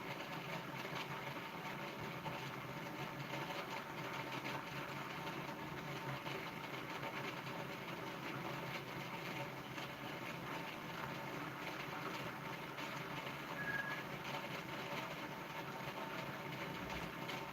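Homemade pulse motor with a magnet rotor spinning at 9 volts: a faint, steady whirring hum with light rapid ticking, continuous and unchanging throughout, heard on its own with no talk.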